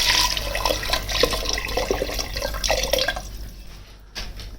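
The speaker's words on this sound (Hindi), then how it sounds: "तो ये देखिए यहाँ पे हम 2 लीटर पानी यहाँ पे शामिल कर देंगे।" Water poured into a cooking pot for chicken yakhni, a continuous splashing gush with a few drips that slackens and stops near the end.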